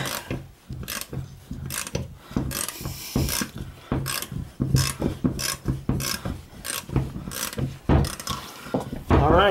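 Ratchet wrench with a 7/8 socket loosening a ball joint on a vehicle, heard as repeated bursts of close, loud metallic clicking and grinding that come in uneven strokes with short pauses between them.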